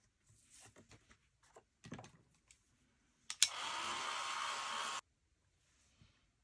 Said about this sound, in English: I'm quickly going to hit it with a heat gun before I apply my masks